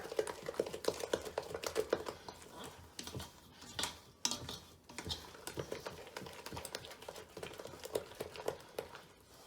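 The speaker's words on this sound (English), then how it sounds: "Mix it up good because you've got your egg in there." Cornbread dressing with egg is stirred in a bowl with a spoon, making faint, irregular clicks and soft scraping taps that come in quick rapid bursts.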